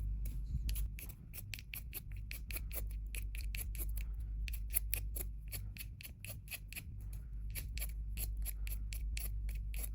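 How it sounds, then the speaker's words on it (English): A wooden pencil is shaved with a blade like peeling a potato, producing quick rhythmic rasping scrapes close by, steady and repeated with brief pauses as the pencil rotates. "Then grab your pencil and start shaving it like you are peeling a potato."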